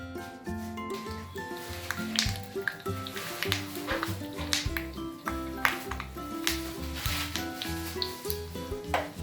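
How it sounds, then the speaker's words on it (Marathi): Tempering spices with asafoetida, turmeric and sesame seeds crackle and sizzle in hot oil, a steady frying hiss broken by sharp pops and light scraping taps. "आता याला आपण फोडणी घालून घेऊया"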